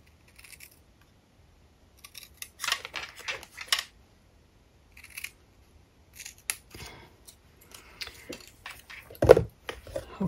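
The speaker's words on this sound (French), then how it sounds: "Alors là, je vais découper l'autre bord de toit." Scissors snip the roof edge of a paper Advent calendar in short, crisp, close cuts, some quick runs of snips and a few isolated clicks, separated by quiet pauses.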